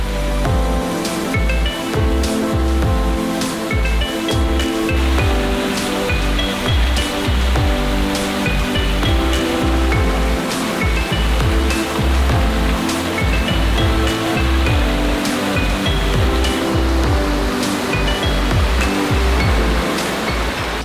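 Water features at Chicago's Shedd Aquarium pour as a loud, unbroken rushing wash of falling water, near and steady, with faint tonal sounds mixed in.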